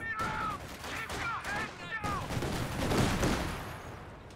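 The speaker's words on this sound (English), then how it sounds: "Flak half track stands its ground, but Rakit misses the first shot." Video game battle gunfire from an anti-tank gun and a flak half-track: a rapid burst of sharp shots, then a broader rumbling volley, fairly quiet and mixed with short voice-like sounds.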